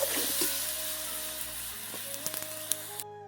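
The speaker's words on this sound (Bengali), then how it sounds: "কষানো হয়ে গেছে, মাংস থেকে সুন্দরভাবে তেল ছেড়ে গেছে।" Meat sizzles in a hot wok with turmeric and salt, a steady close frying hiss with a few soft stirring scrapes, ending abruptly.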